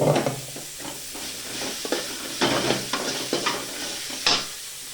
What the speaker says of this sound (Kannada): ಕಾಯಿನೂ ಹಾಕ್ಕೊಳ್ತೀನಿ, ಹುರ್ಕೊಳ್ತೀನಿ, ಸ್ವಲ್ಪ ಹುರ್ಕೊಳ್ತೀನಿ